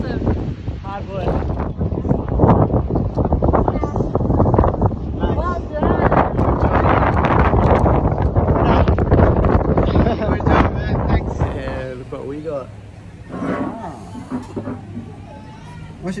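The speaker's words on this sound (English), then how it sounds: "It's rather windy." Strong coastal wind near a blowhole buffets the microphone in a continuous broadband roar on a long road cycling ride from Narrabeen to Gerringong, with voices talking over it; the gusts ease somewhat toward the end.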